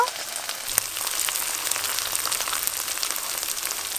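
Ginger, garlic and onion frying in a pan for a kosha chicken dish, giving a steady, fairly quiet sizzle that runs the whole time with one brief clack near the start.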